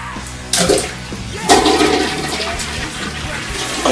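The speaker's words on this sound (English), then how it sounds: "You wipe and you flush it down the toilet." A toilet flushes nearby with a rushing, gurgling surge of water that swells in two bursts and keeps swirling and draining steadily.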